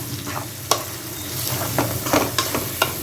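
Turmeric, chilli powder and salt being stirred into cooked tomato in a sizzling pan for ridge gourd curry, with several sharp spoon scrapes and clinks over a constant quiet frying hiss.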